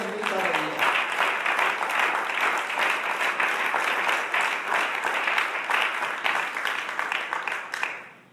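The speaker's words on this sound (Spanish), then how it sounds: "Denle un aplauso fuerte a la gloria bendita de Dios." A church congregation gives loud, sustained applause during a sermon, dense clapping filling the room for several seconds before fading out at the end.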